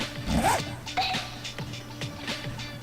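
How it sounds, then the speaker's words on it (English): A character undoes a zipper in the video game Persona 4 Ultimax: a quick zipping rasp, then a few softer clicks and rustles against a quiet game background. "Teddy suddenly undoes his zipper."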